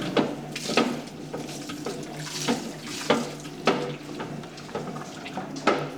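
Water pours into a high-hydration pizza dough turning in a planetary mixer, a steady running trickle with repeated soft slaps and clunks from the dough and bowl over six seconds, close and moderately loud.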